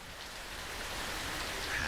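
Rain falls in the Fallout video game, a dense, steady hiss of rainfall with no break, moderately loud and without voices.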